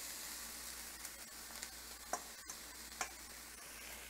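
Taco meat sizzles in an oily frying pan with a steady close hiss, broken by a few soft clicks and scrapes of a utensil stirring it.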